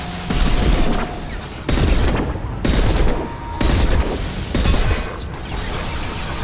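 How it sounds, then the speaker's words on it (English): Heavy bursts of gunfire in the Mass Effect video game, five loud, dense volleys each lasting about a second, separated by short lulls. "now let's hit him with that"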